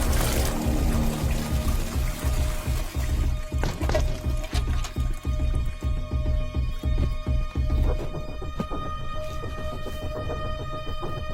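A toilet flushing in an office washroom after a SIM card is dropped in, a loud continuous rush and gurgle of water that gradually thins to a trickle.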